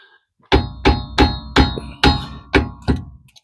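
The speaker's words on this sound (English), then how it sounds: "I just have a screwdriver and a hammer, and I'm just going to give this a little tap" A hammer tapping a screwdriver to pry loose a part on a Jeep Dana 30 front axle: seven sharp metallic strikes at a steady rhythm, close and loud, with no talk.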